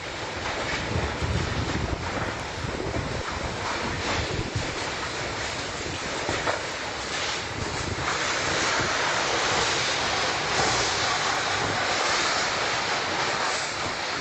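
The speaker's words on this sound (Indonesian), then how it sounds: "Detik-detik terjangan puting beliung direkam oleh warga." Tornado winds tear through a residential housing estate in Sekupang, Batam, a continuous loud roaring rush with heavy gusting and buffeting noise throughout, recorded by residents.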